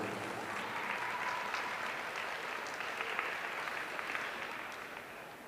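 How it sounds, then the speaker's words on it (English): A county fair livestock show crowd applauds five exhibitors, with steady, fairly distant clapping sustained throughout, even and unbroken, with no voices over it. "Let's give these 5 exhibitors a round of applause,"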